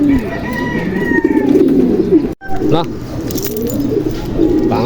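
Racing pigeon cooing up close in a loft after a summer training flight, soft repeated low coos under nearby talk and handler calls, with a brief break midway.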